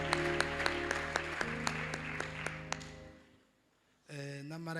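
A church congregation applauds over sustained music, a steady wash of clapping with a few sharper claps standing out, fading to near silence before tones resume.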